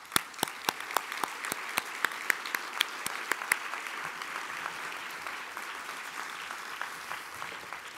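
Applause from a modest audience at an evening dialogue event, opening with sharp, distinct individual claps that blend into a softer, thinning patter and fade over several seconds.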